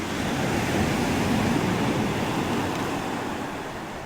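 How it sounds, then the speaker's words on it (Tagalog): Strong ocean waves at Dingalan, Aurora, Philippines, roar continuously, a dense loud wash of surf mixed with wind, no voices. "Ang lakas lang ng alon dito"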